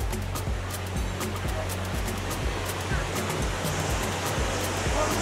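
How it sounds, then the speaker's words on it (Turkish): Düden waterfall near Kepez, Antalya pours with a loud, steady roar of rushing water that holds constant throughout, with no pauses. "Şelalenin esas aktığı yer burası."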